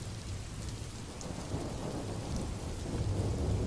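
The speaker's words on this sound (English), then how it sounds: "I know I heard peals of thunder" A great storm with heavy rain pouring steadily and deep thunder rolling underneath, continuous and fairly loud throughout with no voices.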